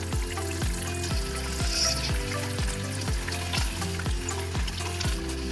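Blended spice paste with lime leaf cooks in oil in a pan for an Indonesian beef soup, a steady close sizzle running under a repeating low musical backing with no speech.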